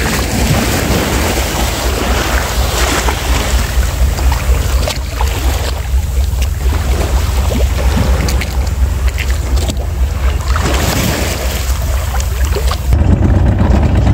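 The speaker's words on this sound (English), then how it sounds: "Engine start up and everything." A fishing boat's engine runs loudly at sea off Jamaica, a constant low rumble mixed with wind buffeting the microphone and splashing water, steady for the whole stretch.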